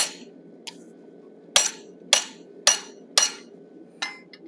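Sharp metallic hammer strikes ring out on a 1/4 inch fuller set on hot steel while forging a wolf head. About seven clear, evenly spaced blows land close by, each with a short ringing decay.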